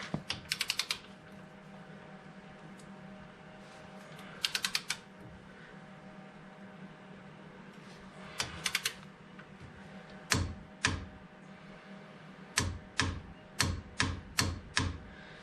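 A torque wrench ratchets while tightening a Dana 30 axle ball joint to 75 foot-pounds. Quiet, sharp clicking comes in short clusters spread over the clip, growing more frequent and regular toward the end.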